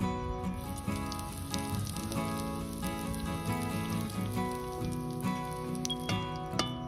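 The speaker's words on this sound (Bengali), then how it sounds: "এই যে হিং নিয়ে নিয়েছি, এই তেলের মধ্যে আমি সামান্য একটু দিয়ে দেবো ফোড়ন।" Asafoetida and spices tempering in hot oil for a Bengali vegetarian mixed-vegetable dish, a continuous close crackle of fine popping and spattering, heard alone.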